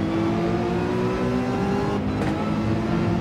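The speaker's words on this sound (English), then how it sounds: "Ooh, I revved it a little bit." A Porsche 911 GR3 engine revs in Gran Turismo 7 as a loud, steady close-up drone whose pitch climbs, drops briefly at a shift, then climbs again, with no talking.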